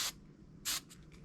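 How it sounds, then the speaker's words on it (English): Short hiss of an aerosol hairspray can misting waved hair, two main bursts followed by quicker faint puffs, close and soft against a quiet room. "I'm gonna spray it with some hairspray."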